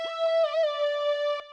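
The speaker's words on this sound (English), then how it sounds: "It's called Glock 9 lead" Glock 9 lead, an Electra X synth preset, plays a short accent melody for a trap beat: a clear, bell-like tone with wavering pitch and a few soft plucked attacks, heard alone.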